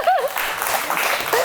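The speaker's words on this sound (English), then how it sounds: "give them a round of applause" An audience applauds in a brief burst of clapping, loud and close, lasting only a moment.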